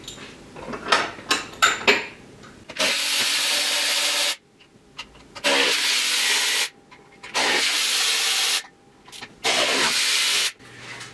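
Work on a C4 Corvette engine bay with the valve cover coming off: a few sharp metallic clinks and rubs at first, then four long, steady bursts of loud hissing, scraping noise with short pauses between them.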